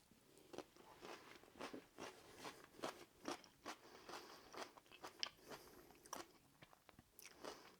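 Someone tasting homemade coleslaw made with mayo, with soft, rhythmic crunchy chewing bites repeating steadily, very faint and close, with no talking.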